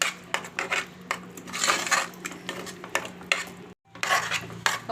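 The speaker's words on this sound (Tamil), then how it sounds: "ஒரு 2 நிமிஷம் வச்சு கலந்திங்கன்னா கெட்டியாயிடும்." A spoon scrapes and clinks against a pan while sweet sarkarai pongal is stirred on a lit stove, with repeated close scraping strokes and metallic taps and a brief break near the end.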